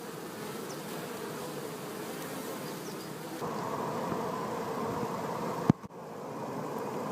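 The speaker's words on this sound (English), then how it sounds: "You hear the sound of a drone buzzing around." Honeybees drone in a continuous buzz close by at a hive with capped honey cells, swelling slightly partway through, with a sharp click and a brief drop near the end.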